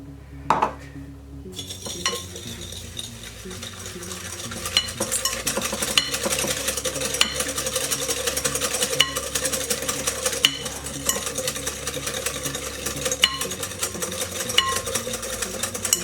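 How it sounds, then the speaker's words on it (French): Egg yolks being whisked with brown sugar in a bowl for baked chocolate cream pots: a steady, continuous scraping and clinking of whisk against the bowl throughout, moderately loud, with no talking. "Donc là maintenant nous allons blanchir les jaunes avec le sucre, donc du sucre cassonade."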